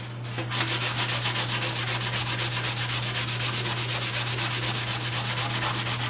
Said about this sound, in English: I'm gonna have to lay it down to get a good scrub on it